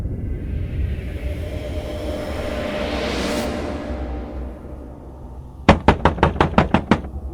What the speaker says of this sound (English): The sudden knock on the door made Emily jump.